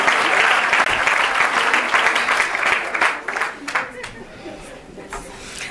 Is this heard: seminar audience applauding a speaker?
yes